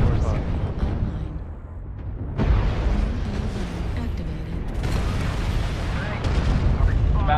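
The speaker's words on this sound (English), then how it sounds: "Let's drop artillery right on top of the Krail." Artillery strike in MechWarrior Online, heard as a continuous heavy rumble of explosions with deep booms under steady battle noise, and people talking over it.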